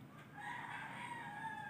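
A single rooster crow rings out, somewhat distant and faint, over quiet background.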